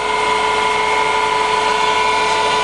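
A Colchester Bantam 2000 centre lathe runs steadily at 2000 RPM in reverse, its belt needing tension, giving a constant loud mechanical whine with a fixed tonal hum and no voices.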